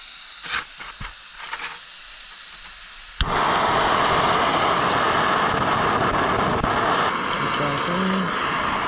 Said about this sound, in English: So I got my Camp Master little jet boil.